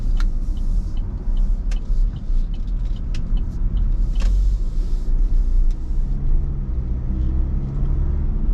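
A 2021 LDV D90 with a 2-litre engine cruises around town, its steady low road rumble and tyre noise heard from inside the cabin, with a few light rattles and clicks over the drone.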